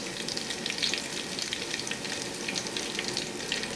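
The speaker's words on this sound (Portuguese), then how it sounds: "Que eu gosto de colocar a cenoura, na realidade, depois do alho, deixa só dourar mais um pouquinho o alhinho" Carrot and garlic fry in a pan for rice, giving a continuous, even hiss of crackling sizzle with light stirring, fairly quiet and with no voices.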